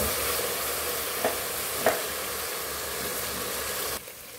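Ginger garlic paste fries in a hot pan for duck khichuri, a steady hiss and sizzle with two brief stirring clinks, then the noise drops suddenly near the end.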